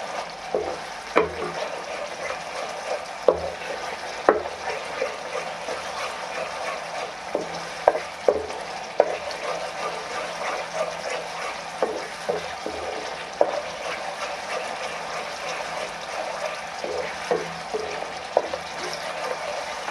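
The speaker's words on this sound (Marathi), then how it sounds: "हे बघा आपला मसाला छान असा भाजून झालेला आहे आपल्या या मसाल्याला तेल पण छान असं सुटलेलं आहे" A Marathi-style masala spice paste roasts in oil in a pan over high heat for a moth bean curry. It gives a steady close sizzle with regular scraping and stirring clicks from a spoon, and no one speaks.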